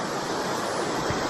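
A river rushes steadily beside a campsite in the Great Smoky Mountains, a dense, continuous broadband wash of flowing water close by with no talking.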